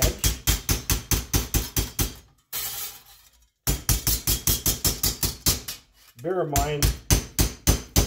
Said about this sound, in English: I'm just using a flat hammer.